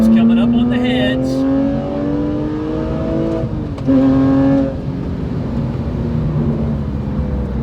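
A Porsche 997.1 Carrera with a 4.3L engine accelerates hard in third gear, its rising engine note climbing steadily, dipping briefly, then pulling again. It is heard loud from inside the car, with someone talking over it.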